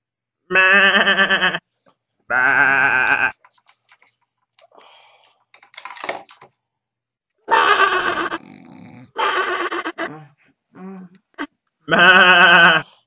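A sheep bleats loudly and close by at a bedside, several long, wavering cries in separated bursts, with quieter shuffling and short noises between them.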